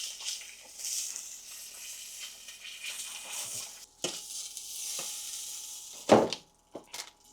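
Chicken pieces for a homemade kebab frying in a pan: a steady soft sizzle close by, broken by occasional stirring scrapes and clacks, with a louder scrape near the end.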